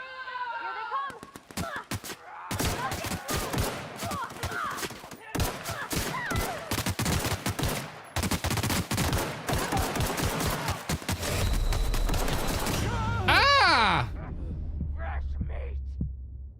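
Heavy weapon fire in The Outer Worlds: Spacer's Choice Edition, a loud stream of rapid gunshots with bursts packed densely together, followed by a deep low rumble and a rising whine near the end.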